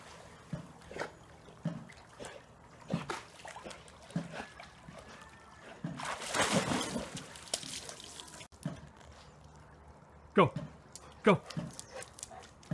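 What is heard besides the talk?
dog splashing while going for a swim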